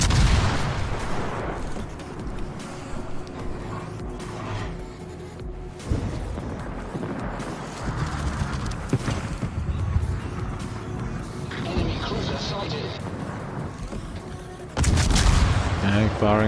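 Warship guns booming and firing shells in a naval battle video game, repeated heavy blasts over a dense rumbling backdrop, with a louder burst near the end.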